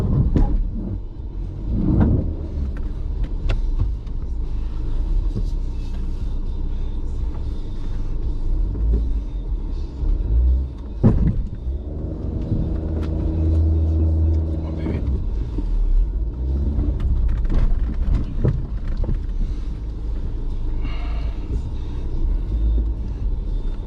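An off-road vehicle's engine rumbles low and steady while it crawls up rocky ledges at Deadman Springs, with a few sharper knocks and a brief surge in the middle as the tires climb.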